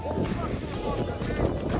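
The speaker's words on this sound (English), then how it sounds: "Oh, there's a gust of wind. Very windy." A gust of wind at a baseball stadium buffets the microphone as a steady, close rushing roar that fills the whole clip, with faint voices underneath.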